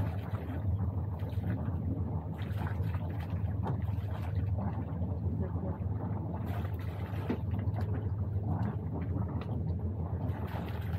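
A boat engine runs at a steady low idle, a continuous rumbling drone with wind buffeting the microphone and no clear change in pitch.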